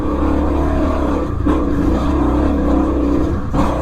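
A motorcycle rides over rough, gnarly terrain in cold conditions, its engine droning loud and steady, close up, with wind noise throughout and a brief dip in the roar.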